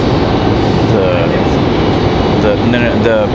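Broad, steady roar of an airliner on the Punta Cana flight at Raleigh Durham airport, a continuous engine rush heard from a distance with people talking over it.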